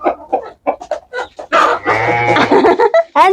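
Chickens clucking and squawking loudly at close range, a run of short choppy clucks building into a longer drawn-out cackle and ending with a few more sharp calls.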